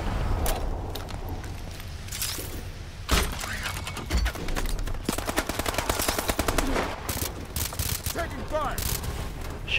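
Rapid automatic gunfire and scattered single shots in a first-person shooter, sounding loud and continuous in dense rattling bursts over busy game noise.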